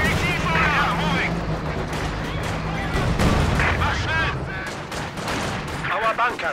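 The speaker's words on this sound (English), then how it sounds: "Taking AT fire!" Anti-tank fire and other battle sounds in the Company of Heroes 2 strategy game: a steady wash of gunfire bursts and dull booms keeps going throughout. Voices talk over the combat.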